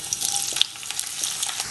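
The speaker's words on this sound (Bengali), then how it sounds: "আমি তেল নিয়েছি 1/4 কাপের মতো। এরপর আমি পেঁয়াজ দিয়ে দিচ্ছি।" Sliced onions sizzle steadily in about a quarter cup of hot oil, a dense crackling hiss with light stirring scrapes, close and continuous with no voices.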